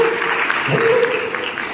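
Children at a girls' college clap together in a hall, a dense, steady patter of applause with a voice briefly heard under it.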